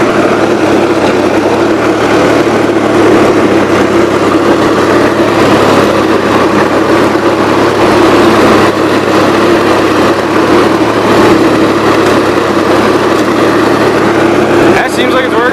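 A Gravely 8163-T lawn tractor engine runs steadily and loudly throughout during a PTO test, its carburetor said to keep changing, a continuous drone with faint talk underneath.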